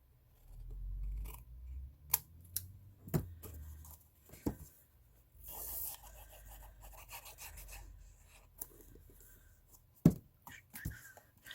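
Scissors trimming designer paper at a craft desk, several short snipping and rubbing cuts spaced out over quiet background, close and fairly soft.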